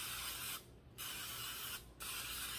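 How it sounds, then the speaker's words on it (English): Two bursts of hissing olive oil aerosol spray onto purple cauliflower, close and steady, separated by short pauses, with no talking. "This is olive oil that I'm spraying it with."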